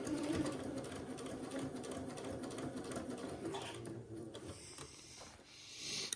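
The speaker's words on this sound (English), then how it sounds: "I'm kind of stretching this seam as I sew it." A sewing machine stitching a seam on an Eton suit, with the fabric stretched as it is sewn, gives a continuous fast mechanical whir at close range, easing off near the end.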